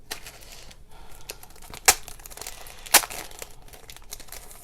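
Plastic packaging of a Stampin' Up ephemera pack crinkles softly as it is opened, with a steady rustle broken by two sharp, close crackles.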